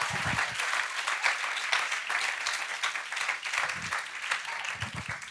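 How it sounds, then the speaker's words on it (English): A studio audience gives a sustained round of applause for Lydia as she comes forward, the clapping steady and fairly close throughout, with cheering voices mixed in. "Big round of applause for Lydia."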